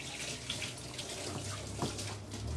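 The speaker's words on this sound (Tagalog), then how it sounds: "Siyempre, kailangan ko maghugas." Water runs from a kitchen tap as pans and utensils are washed up after cooking, a soft steady splashing stream that carries on for a few seconds at close range.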